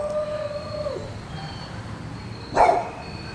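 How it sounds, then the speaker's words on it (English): A dog in a backyard gives a drawn-out howling bark followed later by a short sharper bark, fairly distant and moderate in volume over quiet outdoor background. "possibly my dog barking"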